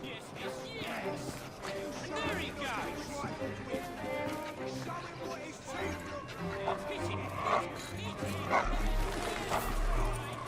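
Dog barking and whimpering in the rough Devil's Acre district of the game Assassin's Creed Syndicate, a nervous dog reacting to strangers, with short yips and whines mixed into ongoing character dialogue and street ambience.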